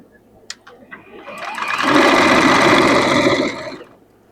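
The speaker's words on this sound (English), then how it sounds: "So I'm going to turn it over this way and sew up" A sewing machine stitches a dress seam in one sustained run of about two seconds, starting after a few soft clicks and stopping cleanly, loud and close.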